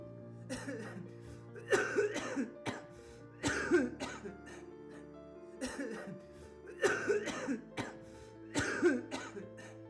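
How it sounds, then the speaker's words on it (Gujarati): Repeated bouts of harsh coughing come in clusters, each a few rough hacks close by, separated by brief pauses. "ભાઈ આજે તો બહુ ઉધરસ આવે છે."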